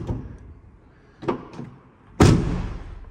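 A Ferrari 458 Challenge race car's very light door shuts once with a sharp, close thud that rings out briefly, after a couple of softer clicks and knocks from handling the door.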